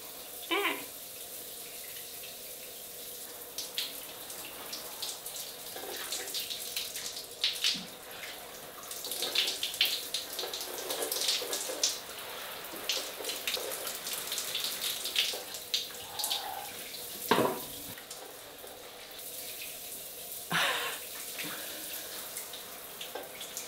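A home shower runs water over potted houseplants and a moss pole, giving a continuous broad hiss with splashy, irregular surges and a few sharper spatters, close and fairly loud, with no speech.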